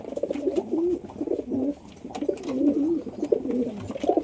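Pigeons coo steadily and close by in overlapping low, rolling calls during deworming on a rainy day, with a soft handling thump here and there and no talking.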